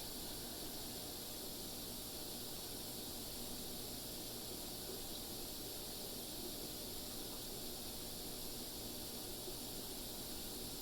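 Overheated aquarium heater hissing in the air as it climbs past boiling temperature: a faint, steady, unbroken hiss with no pauses, quiet and alone.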